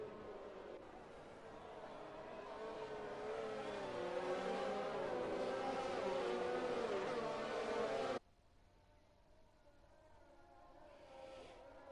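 Racing video game cars run a slow safety car lap in a simulated league event, a steady engine drone with shifting revving tones lasting about eight seconds before cutting abruptly to a much quieter, faint background.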